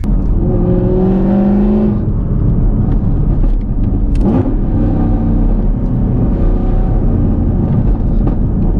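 A car accelerates hard through a no-lift shift, its engine note climbing steadily for the first two seconds before a brief break at the shift, then pulling on with a loud, continuous close-up roar.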